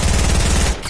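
Rapid automatic gunfire rattles loud and close in Fortnite, a fast burst of repeated shots that cuts off abruptly near the end.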